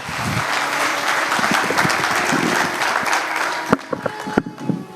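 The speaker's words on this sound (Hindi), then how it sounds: "जोरदार तालियों के साथ" An audience on stage at a summit bursts into loud, dense applause, steady for several seconds before thinning into a few scattered individual claps near the end.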